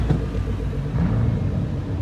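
Nissan Skyline R34 engines rumble low and steady at an outdoor Nashville cars and coffee meet, a close, continuous idle with slight swells in throttle and no talk.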